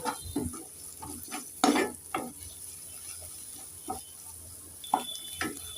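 Turmeric and chilli powder frying in a pan for a brinjal potato curry, a soft steady sizzle broken by irregular scraping stirs of a spoon, close and moderate in level.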